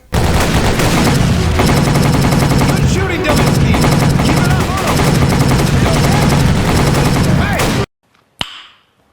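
Sustained loud machine gun fire in a History Channel World War II first-person shooter game, a dense continuous rattle for about eight seconds, then a sudden stop and one last short burst.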